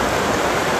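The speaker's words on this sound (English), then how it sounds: "Amidst the waves crashing" Waves crashing on the Galveston shore, a dense, loud, continuous roar of surf filling the whole brief moment with no voices.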